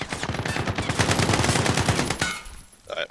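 Rapid, loud gunfire in Call of Duty Warzone, a dense run of repeated shots over a couple of seconds, then a short lull and a final burst.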